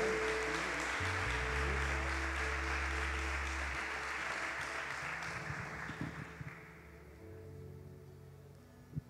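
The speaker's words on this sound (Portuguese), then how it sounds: "dê uma salva de palmas ao Senhor Jesus" A church congregation claps together, a broad wash of applause at low level that gradually fades, with a low hum and faint sounds underneath.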